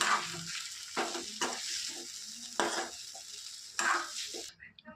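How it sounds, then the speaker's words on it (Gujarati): Masala potatoes stirred in a pan over a low flame, soft continuous sizzling broken by a few distinct scraping strokes of a spoon against the pan, close and alone. "થોડીવાર આપણે એને ધીમા તાપે હલાવશું જેથી કરીને નીચે બેસી ના થાય"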